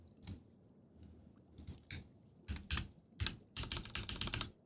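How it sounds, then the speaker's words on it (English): Computer keyboard typed with one hand while eating, a few sparse bursts of clicks early on, then denser, quicker clatter toward the end, close and fairly faint with no voices. "I'm typing with one hand because I'm like eating at the same time."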